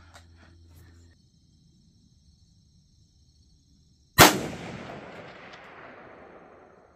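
A single sharp rifle shot from a 16-inch Bear Creek Arsenal Bear Claw upper in 300 Blackout, fired at a distant outdoor target, cracks loudly and rolls into a long fading echo after several seconds of quiet.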